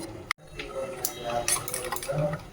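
Spoon scrapes and clinks against a bowl while Kashmiri chili powder is stirred into a wet spice paste, a quiet, close and irregular run of taps and smears with no talking.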